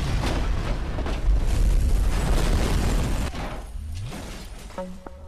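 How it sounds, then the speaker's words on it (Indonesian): A film scene where an explosion destroys part of a train station: a loud, close booming blast with rumbling debris that builds, then thins out into quieter scattered sounds. "sebuah ledakan menghancurkan sebagian dari stasiun itu"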